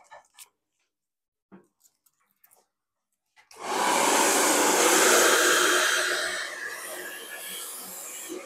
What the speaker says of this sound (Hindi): स्ट्रेट ड्रायर कर दे भाई ने।